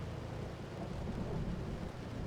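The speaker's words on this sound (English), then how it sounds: "We drove through the hail core." A thunderstorm hail core in the storm-chasing game Outbrk gives a continuous low rumble with dense rain and hail patter, faint and steady, with no talk.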